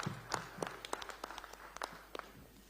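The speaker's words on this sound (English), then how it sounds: "Let us also accord the seconder a warm round of applause" A round of applause in a plenary session of the Commonwealth presiding officers' conference, heard as sparse, fairly quiet claps at a steady rhythm with no voices.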